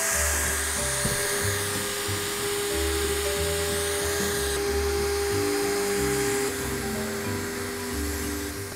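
A BF24 cordless drill runs nonstop with a steady whine and a low motor hum underneath, holding at the same pitch with no pauses for the whole stretch.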